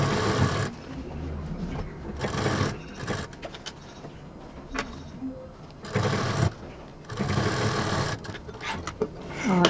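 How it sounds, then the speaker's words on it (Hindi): A sewing machine runs a double line of stitching along a zipper on a handmade bag, set under piping, in several quick bursts of steady whirring separated by short pauses, close and fairly loud. "अब यहाँ पर डबल मशीन चलाएंगे जिप पर"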